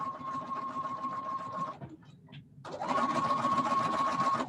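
A sewing machine stitches fabric face masks in a steady, fast mechanical whir with a humming tone, close and loud, pausing briefly before running again without talk.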